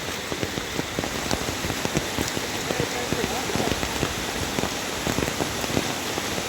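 Heavy monsoon rain pours during a flood, a dense continuous patter of drops hammering surfaces close by, steady and loud throughout.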